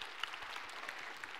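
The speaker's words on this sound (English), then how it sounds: "maybe a round of applause for Ben" Students in a university computer science lecture hall give a short round of applause for a course staff member, a soft, steady patter of many hands at a distance with a few sharper claps standing out.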